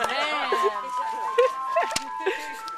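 An ice cream truck passes outside, its tinkling jingle melody playing steadily and clearly over people chatting and laughing nearby.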